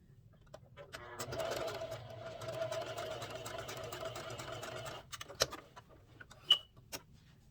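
A sewing machine stitches bias tape in one continuous run of about four seconds, close and fairly quiet, followed by a few clicks and handling knocks.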